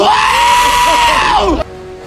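Goats scream in one long, loud, wavering bleat lasting over a second and a half, close by, cutting off abruptly into quieter background.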